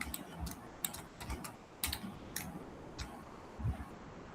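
Computer keyboard typing while entering Python code, a quick uneven run of crisp key clicks heard close and alone in a quiet room.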